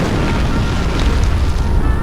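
Enemy units open fire in Greed Corp, a dense, rumbling barrage of booms and blasts rolling continuously at high volume, close and heavy, with no talking.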